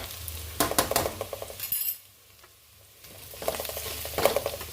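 Egg curry is stirred in a pan, with bursts of metal spoon scraping and clinking against the pan, a short quiet pause in the middle, then more stirring under a faint sizzle.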